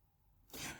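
A single sneeze erupts as a short, sharp burst near the end, after a stretch of near silence in a quiet room.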